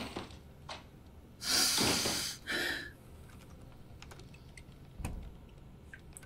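Heavy breathing in the horror video game Summer of '58, set at an eerie camp in Russia: two loud, close, rasping breaths in quick succession, then quiet ticks and a faint thud.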